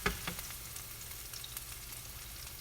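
Onions frying in a pan, a continuous soft sizzle with faint crackles and a few stir taps near the start, close and steady with no talk.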